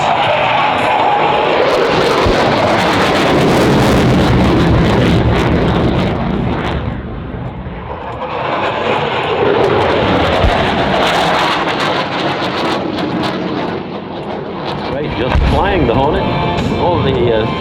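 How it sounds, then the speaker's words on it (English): An F/A-18F Super Hornet jet passes at an Australian air show, its roar building, dropping, then swelling again as it sweeps by, under steady talk from a commentator. "In comes the Super Hornet."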